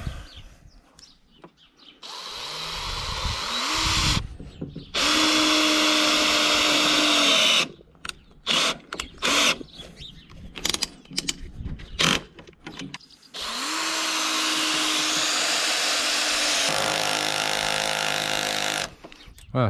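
A cordless screwdriver drives screws into wood in several long whirring bursts that rise in pitch as each one spins up, broken by pauses, handling clicks and brief talk.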